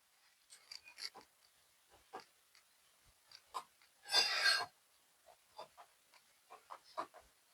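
Scissors cut through fabric for a blouse, a series of quiet, short snipping and rasping strokes in uneven rhythm, with one louder, longer shearing pass midway through.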